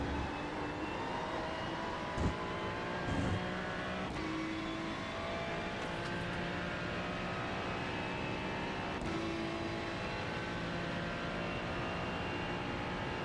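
Ferrari 296 GT3 race car in iRacing at Silverstone, its engine note droning steadily and loud under throttle, with brief shifts in pitch near the start and around the ninth second as it accelerates out of corners.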